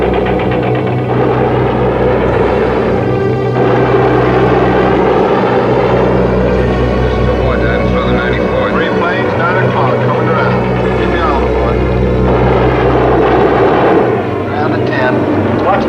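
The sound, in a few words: B-17 bomber aircraft engines in flight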